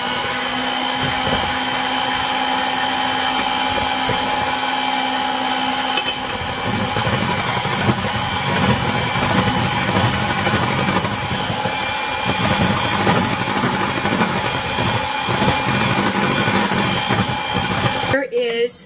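An electric mixer whips cream with confectioners sugar for chocolate mousse, a steady, loud, close whirring drone that runs almost without a break, its pitch dropping slightly partway through and cutting off at the end.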